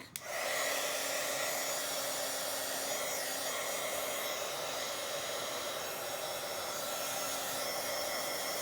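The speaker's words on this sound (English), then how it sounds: "let's dry this last part really quick" A hair dryer switches on and blows a steady, loud whirring rush of air over painted paint on a journal page, continuous and close with no talk.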